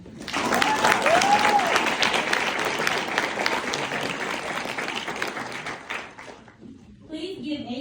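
An audience at a US Army officer basic course graduation ceremony breaks into strong applause, loud and close. The clapping fades after about six seconds, and voices, including a child's, can be heard in the crowd.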